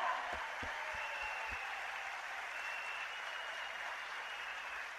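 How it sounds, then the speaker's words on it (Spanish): An audience at a seminar applauds newcomers to the event with sustained, dense clapping that stays steady and fairly distant for the whole stretch, and a few low thumps come near the start. "Un aplauso para toda esa gente nueva."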